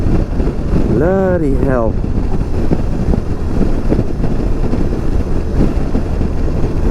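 BMW R 18 B bagger motorcycle cruising in sixth gear at nearly 100 km/h and 2,000 RPM, a steady low engine drone blended with heavy wind rush, with someone briefly speaking over it.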